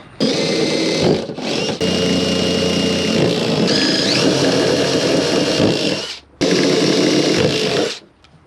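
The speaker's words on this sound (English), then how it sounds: "I'm gonna make these bottom bolt holes and get these fenders installed" A loud power drill bores bolt holes for the fenders of an old semi truck, running in long sustained bursts with brief pauses between them, close up and with no talk.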